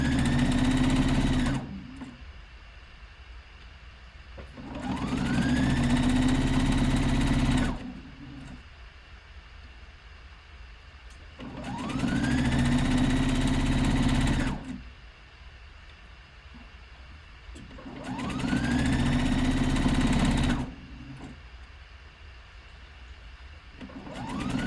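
A sewing machine runs in short bursts as a back stitch is sewn on lounge pants, each few-second whirring run rising quickly and stopping, separated by quiet pauses, repeated four times.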